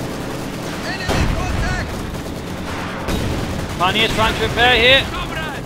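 Maxim machine gun fire from a ruined church rattles in a Company of Heroes 2 battle, bursts of gunfire and explosions mixed with battle noise under a commentator's voice.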